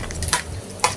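Kinilaw of raw parrotfish with chili being stirred in a bowl, a short run of wet scraping strokes with two sharper clinks, close and fairly loud, no voices.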